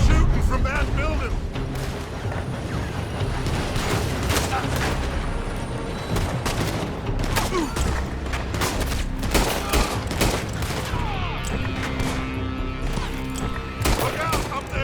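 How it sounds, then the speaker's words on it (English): Dense gunfire rings out continuously from a building in Red Dead Redemption 2, with heavy volleys, booming shots and rolling reports layered into a loud, sustained firefight. "They're shooting from that building."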